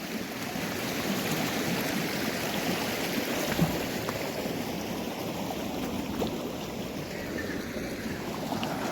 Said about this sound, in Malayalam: കുറച്ച് വെള്ളമേ ഉള്ളൂ എങ്കിലും നല്ല ശക്തിയായിട്ട് വെള്ളം ഒഴുകുന്നുണ്ട്.